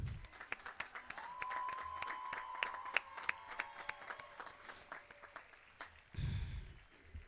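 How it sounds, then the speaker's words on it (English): A graduation ceremony crowd at a high school gives a round of applause for a staff member, distant faint clapping spread through a large venue with a sustained tone underneath and a low rumble near the end. "Let's give Mrs. Sullivan a round of applause."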